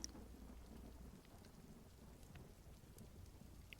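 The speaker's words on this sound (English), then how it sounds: "Will you look at that rain? It's really pouring out there." Heavy rain pours steadily outside a window, a dense continuous hiss with low rumbling thunder beneath it, heard from indoors with no one talking.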